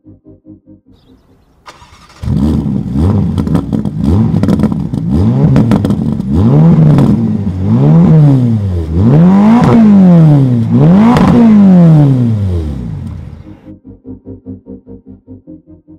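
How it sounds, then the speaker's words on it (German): A 2021 Ferrari Roma's V8 engine cranks and fires up, then revs repeatedly in rising and falling sweeps, loud and close, before settling back to a lumpy idle. "dann schmeißen wir hier mal den V8 gemeinsam an"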